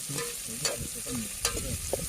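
Tempering sizzles in hot oil for a spiced sheep brain dish, with steady frying hiss broken by several sharp stirring scrapes and clinks, close and alone with no talk.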